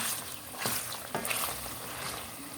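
Beef kavurma frying in its own fat gives a steady, dense sizzle, with a couple of louder scraping stirs of the pan breaking through.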